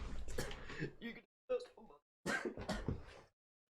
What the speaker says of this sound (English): So, I just choked on myself.